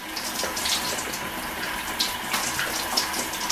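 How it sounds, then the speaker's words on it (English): Shower water runs steadily throughout, a continuous close hiss of spray with small splashing fluctuations, no talking. "I'm in the shower"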